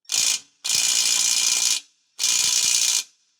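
A ratchet tightens a bolt during an at-home two-inch vehicle lift job, heard as three close, loud bursts of fast metallic clicking: one short, then two longer runs separated by brief pauses.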